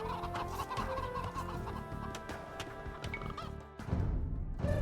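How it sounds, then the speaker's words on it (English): Chickens clucking on a video game map, a dense and continuous clucking from several birds, loud and close, with no talking over it. "So many chicken sounds."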